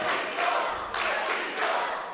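Wrestling crowd at a British pro wrestling show, shouting and cheering on a wrestler in steady, fairly loud waves of massed voices.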